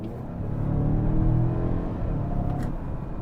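A 2025 Mazda CX-5 with a turbocharged engine accelerates, giving a steady, full low rumble that swells slightly and holds evenly for about three seconds, with no voices over it.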